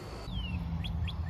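A big red bird calls outdoors: a sharp descending whistle followed by three short rising chirps, fairly clear over a steady low rumble of outdoor background noise.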